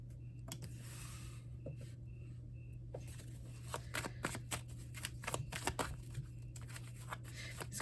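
Tarot cards being shuffled by hand, a quick run of crisp riffling flutters and soft slaps repeating over several seconds, close and quiet against a low steady hum, no talk.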